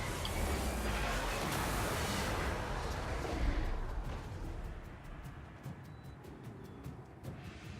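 Artillery fire in the fantasy battle game Total War: Warhammer 2 booms as a dense, rumbling barrage of continuous low explosions and battlefield din, loud at first, then easing to a steadier, quieter roar with scattered crackles.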